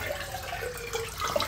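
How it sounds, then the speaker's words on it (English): A Fluidmaster Performax toilet being flushed after a fill valve install, giving a steady rushing wash of water throughout, fairly close and moderately loud with no voices over it. "Let's go ahead and flush it."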